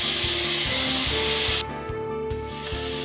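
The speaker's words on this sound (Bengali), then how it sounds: "এবার নুন হলুদ দিয়ে মিশিয়ে রাখা চিংড়িগুলো দিয়ে ভেজে নেব।" Shrimp coated in salt and turmeric fry in hot oil with a loud, continuous hissing sizzle that eases somewhat partway through, punctuated by regular soft knocks.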